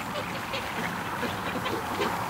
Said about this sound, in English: I'm just going to let the ducks have a grand time here